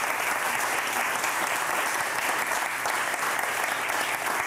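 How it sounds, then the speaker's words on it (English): Steady round of audience applause after a talk on the artificial cryosphere at a Long Now lecture, dense clapping held evenly throughout, moderately loud with no voices. "Let's have another big round of applause"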